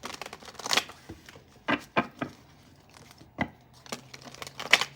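Tarot cards being shuffled by hand, a series of quick papery riffles and slaps in irregular bursts, close and crisp, with no talking.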